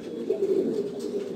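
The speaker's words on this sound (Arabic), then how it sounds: "حمام راه كنطيروها هنا بشويه عليه ويهبط" Pigeons coo close by in a low, throaty, steady murmur with soft pulsing rises, heard alone without talk.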